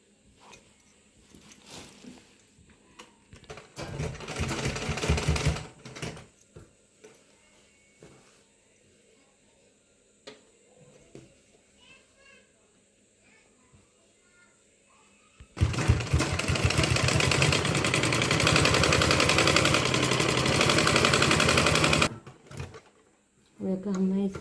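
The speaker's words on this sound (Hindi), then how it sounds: "देखो हमें इसे गोल में सिल लेते" Sewing machine stitching a dhoti salwar, running in two loud sustained bursts of steady whirring with quieter handling sounds and occasional talk between them.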